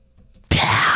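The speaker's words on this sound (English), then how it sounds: "I call my whisper screams, which is like just normal metal screams" A whispered metal scream vocal from a heavy production, a harsh breathy noise bursting in loudly after a near-silent lead-in and sustaining at full intensity.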